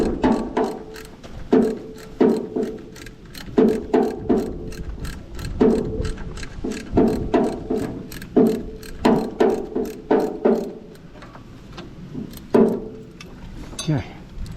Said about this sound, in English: We can get a socket in there now.